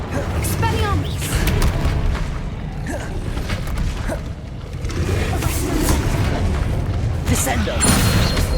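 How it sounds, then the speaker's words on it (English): In the PS5 game Hogwarts Legacy, the Expelliarmus spell is cast amid combat, with booming magical impacts and clattering effects over continuous game noise. Spoken voices come through under the action. "Expelliarmus!"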